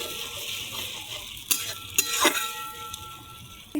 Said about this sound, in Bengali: ভালো করে কষবো এটাকে